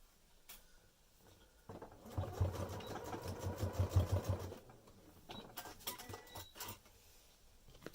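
A sewing machine stitches fabric for an Easter egg in a quiet room, making a short burst of fast, faint mechanical patter that fades back to near silence, with small handling noises around it.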